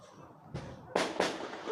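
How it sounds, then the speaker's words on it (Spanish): Gunshots from a revolver and pistol ring out on Cerro San Roque in Valparaíso, Chile: three sharp reports, one softer and then two louder cracks in quick succession, heard from a distance over faint background noise. "Fueron estos disparos los que alertaron a los vecinos del Cerro San Roque en Valparaíso."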